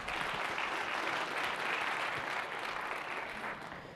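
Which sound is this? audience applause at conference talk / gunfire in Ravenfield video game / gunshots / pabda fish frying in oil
audience applause at conference talk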